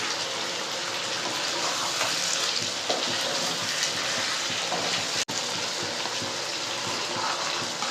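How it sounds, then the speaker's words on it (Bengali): Water poured into a yogurt chicken curry, a steady, loud rushing gush that runs unbroken apart from one brief dropout. "অল্প সামান্য জল দিয়ে পরিমাণ মতো জলটা আমরা দিয়ে নিয়েছি"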